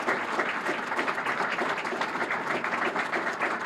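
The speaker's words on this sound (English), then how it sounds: "How about a nice round of applause for them?" A room full of people claps at a brain aneurysm foundation awards ceremony in Massachusetts, producing a steady, dense wash of applause that holds at an even volume from start to finish.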